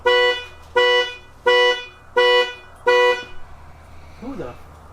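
A Ford F-150 car alarm sounding nearby in a workshop, five loud, evenly spaced horn-like blasts, followed by a brief voice in the background.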